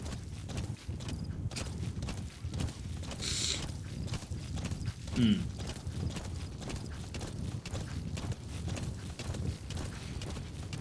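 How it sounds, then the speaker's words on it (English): Hooves of a horse in the Metal Gear video game thud repeatedly in a steady clip-clop, with one heavier landing after a jump, fairly loud against continuous game background sound. "Whenever the horse hits the ground after jumping, it really seems like she's trying to slam into the dirt."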